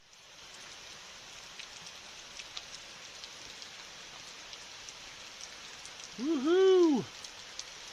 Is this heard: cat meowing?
no